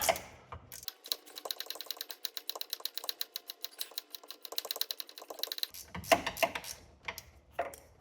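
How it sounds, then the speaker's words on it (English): An 18mm ratchet spanner undoes a rear wishbone bolt on a Porsche 718, giving a fast, even run of close, crisp clicks for several seconds, with a few louder knocks and scrapes at the end. "we want to undo this bolt on the end here with an 18mm ratchet spanner"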